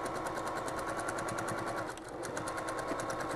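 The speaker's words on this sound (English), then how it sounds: "we always want to backstitch because this is going to be a very washable project" A sewing machine stitching and backstitching a seam on a washable project, its fast rhythmic needle chatter running steadily and close up, with a brief change in pace near the middle as the stitching reverses.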